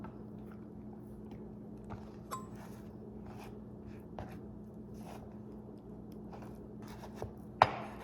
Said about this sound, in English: I'm gonna chop that pretty small